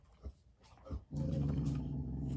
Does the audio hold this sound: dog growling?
yes